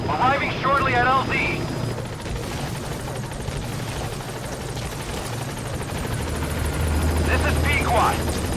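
The Pequod helicopter in Metal Gear Solid V: The Phantom Pain arrives at a landing zone, its rotor thumping in a steady heavy drone, with radio voices talking over it at the start and end.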